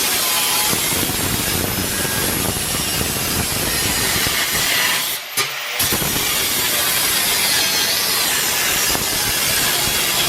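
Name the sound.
sawing wood to trim floor repair piece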